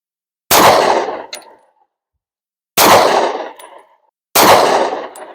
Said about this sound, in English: We're going to shoot some 9mm at this guy.